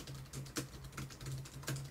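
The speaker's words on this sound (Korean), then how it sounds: "실제 타이핑 해봤을 때 상당히 안정적으로 타이핑이 가능했고요." Keys on a Gigabyte AERO 15 X9 laptop keyboard being typed on, making a quick irregular patter of soft, close clicks at a low level, with no voices.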